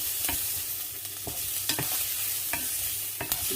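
Smoked meat sizzles steadily in a pan while a utensil stirs it in several short, scraping strokes spaced about a second apart.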